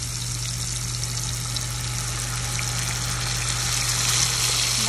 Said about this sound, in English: we deglaze with our vinegar.